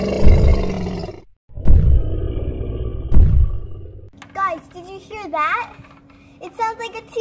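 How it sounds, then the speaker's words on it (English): A T-Rex roar, a deep loud growling burst in the opening seconds, repeated in about three heavy surges before a higher, warbling creature cry with a steady tone takes over. "It sounds like a T-Rex."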